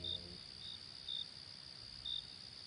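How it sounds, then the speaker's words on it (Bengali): Crickets chirp at night in a jungle setting, a faint, steady insect trill with brief louder pulses recurring about once a second, alone without voices. "ঝিঝি ডাকছে এক টানা"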